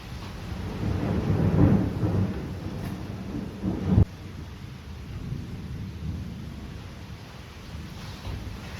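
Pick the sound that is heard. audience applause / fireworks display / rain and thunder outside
rain and thunder outside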